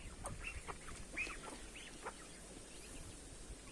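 Several ducks quack in short, scattered calls in a village yard, with hens clucking nearby against a steady outdoor background hum.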